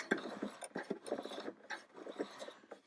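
A sewing machine stitching sequins onto fabric in quick mechanical bursts, its needle clattering rhythmically up close with brief pauses between runs.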